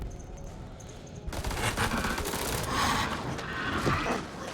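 Rifle gunfire in the horror game House of Ashes breaks out after a quiet start, with dense, continuous volleys of shots and rumbling battle noise that stays loud to the end.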